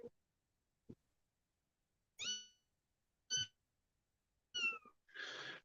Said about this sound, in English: Yeah, little kitten we got.